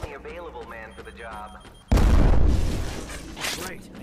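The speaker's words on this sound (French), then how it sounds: "Et une grenade." A grenade goes off in the Switch shooter G.I. Joe: Operation Blackout, a sudden loud, close blast that fades into a rumbling tail, following a brief stretch where a voice speaks over quiet game sounds.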